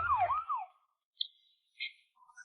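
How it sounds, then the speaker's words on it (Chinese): A brief police car siren wails, rising and falling once, then fades out, followed by a few faint high tones in near silence. "随着警车鸣笛呼啸而去"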